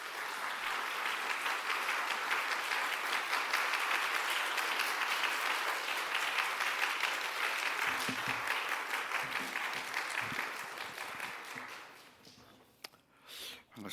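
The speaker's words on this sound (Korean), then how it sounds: "우리 목사님 나오실 때 따뜻하게 큰 박수로 환영하겠습니다" A church congregation gives warm, sustained applause welcoming their pastor, many hands clapping evenly for about twelve seconds before fading as a voice begins to speak.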